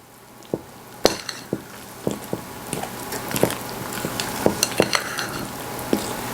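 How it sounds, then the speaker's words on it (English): Cinnamon being mixed into persimmon walnut muffin batter, heard as scattered soft clicks and squishy stirring taps against a bowl, close and fairly quiet with no voices. "I just want to combine and mix that in to my batter"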